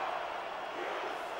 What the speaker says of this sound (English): This capacity crowd is on its feet.